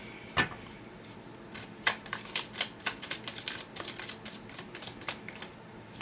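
Tarot cards being shuffled by hand, a quick run of soft riffling flutters and taps close to the microphone, fairly quiet and without talk.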